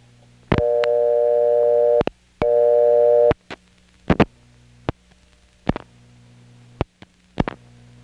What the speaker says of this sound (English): Clayton busy signal sounds almost like a bell system tone,